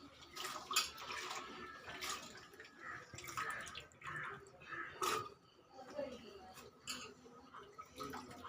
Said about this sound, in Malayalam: പാപ്പക്കായ കഴുകിയിട്ട്